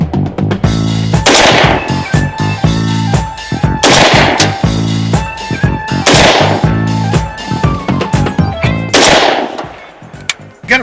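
A Ruger Mini 14 police trade-in rifle fired at a 100-yard steel target, sharp loud shots in rapid bursts ringing out at regular intervals with a strong echo after each group.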